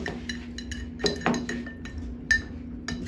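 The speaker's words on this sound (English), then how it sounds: "Stir it up good. Because the honey tends to, because remember this is cold." A spoon clinks against a glass while stirring a cold citrus drink with honey. Bright, irregular taps come close and clear, with a few sharper strikes among the softer ones.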